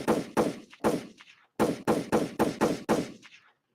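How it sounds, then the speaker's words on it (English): Rapid bursts of gunshot sound effects, about nine sharp cracks in two uneven volleys with a short gap between, loud and close with no talking over them. "Let me get some gunshots right now."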